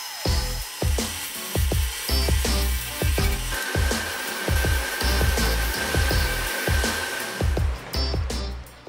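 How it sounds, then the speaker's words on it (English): A disc sander smooths bandsaw marks off small wooden brackets, its steady whine broken by a quick, regular run of loud scraping bursts as each piece is pressed to the disc. "used the disc sander to remove any of the bandsaw marks"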